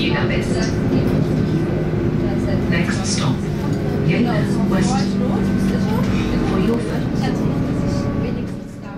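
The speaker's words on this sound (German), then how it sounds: "Zurück am Bahnhof steigen wir dort in eine Regionalbahn nach Jena ein." A regional train bound for Jena in Thuringia rumbles steadily along the rails, a continuous low roll and hum heard from inside, with a narrator speaking over it.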